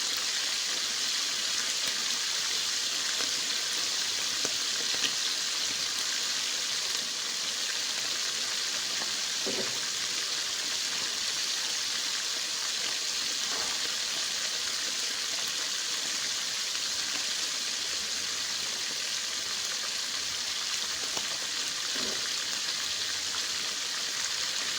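Steady rain patters and hisses continuously throughout, a dense even wash of drops on surfaces during stormy weather; a few faint low rumbles of distant thunder surface briefly in the middle, with no voices.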